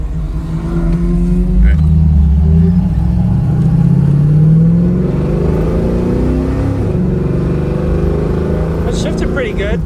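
A 1971 Ford Mustang Mach 1 engine with a shift kit rumbles and rises in pitch as it accelerates, dips at a gear change and then pulls again, heard from inside the car while occupants talk.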